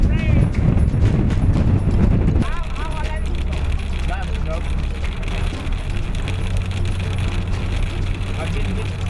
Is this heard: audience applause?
no